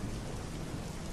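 Steady rain falling during a thunderstorm, an even wash of rain noise at moderate distance with a low rumbling undertone and no talking.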